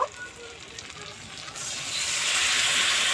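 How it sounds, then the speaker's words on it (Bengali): Ground pepper, chilli and turmeric with a splash of water frying in a pan, a soft sizzle that suddenly swells into a loud, steady hiss halfway through, close by. "মশলাটা খুব ভালো করে কষিয়ে নেব।"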